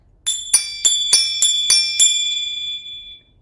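Brass zills, finger cymbals for belly dance, played leading with the left hand: seven bright, bell-like strikes in an even rhythm, each ringing on, then a clear decay to silence.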